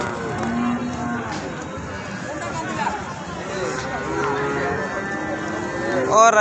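Cattle moo repeatedly amid the bustle of a crowded livestock market in Bangladesh, with traders chattering and calling out nearby while hooves shuffle faintly under the steady din.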